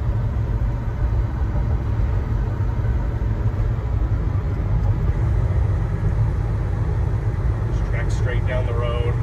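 1967 Chevy C10 restomod truck driving down the road, with a loud steady engine and road rumble heard from inside the cab, plus faint squeaks near the end.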